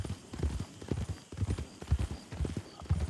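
Horse hooves clip-clop at a quick galloping rhythm, a steady run of close, loud hoofbeats as a riderless horse comes into town.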